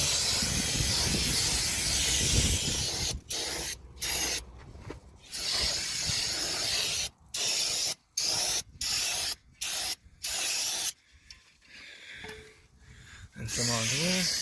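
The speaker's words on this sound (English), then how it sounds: "Now what we need to do is a little brake clean." Brake cleaner hisses from an aerosol can onto a Ramcharger rear wheel hub in repeated short bursts separated by silent gaps, close and loud, after one longer opening spray.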